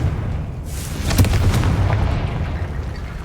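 A Confringo blasting spell explodes in the Hogwarts Legacy video game, a loud deep boom with a sharp onset that rolls into a sustained rumbling blast and fades slowly, with no talking over it.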